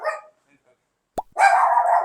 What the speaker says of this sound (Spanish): Es un perro de hotel nada amigable.